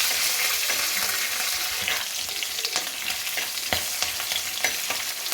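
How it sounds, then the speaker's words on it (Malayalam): Ginger and green chillies fry in a hot pan while being stirred, giving a loud, steady crackling sizzle with scattered sharp pops and no voices. "നന്നായിട്ട് ഇളക്കി കൊടുക്കാം"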